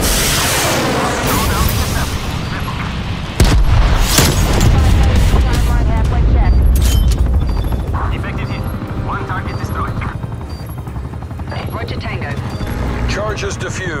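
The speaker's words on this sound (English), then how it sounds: "Cruise missile ready to launch." A cruise missile launch in a combat video game, a sharp loud boom that gives way to a roaring, rumbling rush fading over several seconds, mixed with game sounds and some in-game voice chatter.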